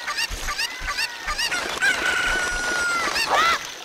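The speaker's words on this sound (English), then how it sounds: "the final place we want to take the chicken." A cucco, the chicken from Ocarina of Time, clucks and squawks in a rapid, jittery burst of short calls, ending in a rising, crowing squawk, close and fairly loud.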